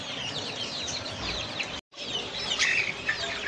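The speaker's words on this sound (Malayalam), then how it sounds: "ഇത് ബംഗാളി ഫിഞ്ചസ് ആണ്." Bengalese finches chirping in a pet shop: a dense, continuous mass of high twittering and cheeping from many small birds, steady and close, with one brief cut to silence partway through.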